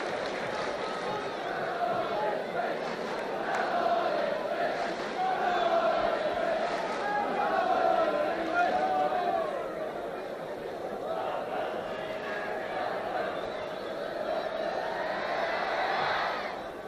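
A 1976 football crowd watching Spurs roars in a broad, sustained swell, rising and falling, while a commentator talks over it.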